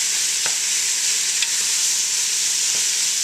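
Garlic, onion and meat browning in a pan for chili, a steady loud bright sizzle with occasional soft stirring scrapes and taps, close up and continuous, no voices.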